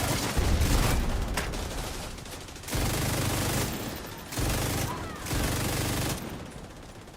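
Bursts of light machine gun fire in The Division 2, a shooter video game, come in long sustained rattling volleys broken by short pauses, loud and close throughout.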